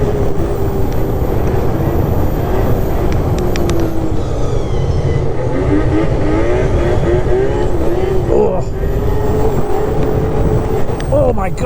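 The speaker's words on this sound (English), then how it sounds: "All right, the engine's incredible. The engine's super cool." A video-game vehicle engine roars continuously and loud, droning steadily with rising and falling pitch as it is ridden, filling the whole stretch with a dense, constant mechanical noise.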